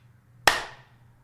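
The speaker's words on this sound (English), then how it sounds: "let's do a clap" A single sharp hand clap rings out once against a quiet room with a low hum, decaying quickly.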